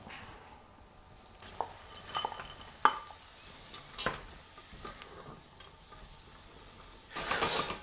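Peas added to a pot of peanut-butter pea soup, with scattered stirring scrapes, knocks and soft sizzling, close and intermittent, ending in a brief louder rush of noise.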